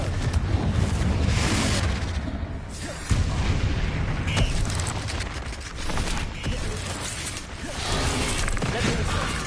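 A Confringo spell exploding in a Harry Potter-style video game, a loud, sustained booming blast with rumbling debris and layered impacts that swell and fade over several seconds, close and dense.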